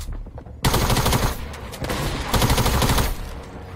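Rapid automatic LMG fire in a Fortnite match, a loud sustained burst of closely spaced shots starting abruptly after a brief quiet moment, with a slight dip midway before the firing continues.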